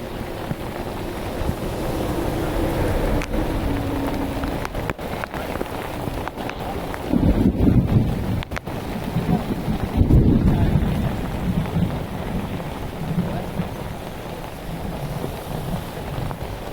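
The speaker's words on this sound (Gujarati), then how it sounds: "લાઈવ વરસાદ" Heavy monsoon rain with thunder over a highway near a toll plaza in Mahuva taluka, Gujarat: a steady, dense roar of downpour with louder rumbling swells around the middle of the stretch.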